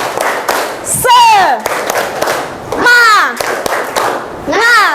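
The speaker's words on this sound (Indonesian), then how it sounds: "Kita tepuk semangat lagi aja yuk." Classroom children doing a rhythmic spirit clap in a lesson, loud bursts of clapping in a repeating pattern alternating with children shouting in unison, close and energetic.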